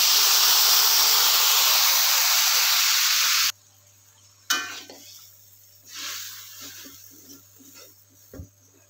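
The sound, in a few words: stir-frying spice paste in oil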